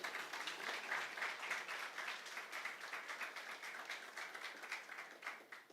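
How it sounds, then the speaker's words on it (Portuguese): A church congregation at a celebration service claps together in a faint, distant wash of applause with a loosely rhythmic pulse, sustained throughout without speech. "Dê mais um aplauso a Jesus."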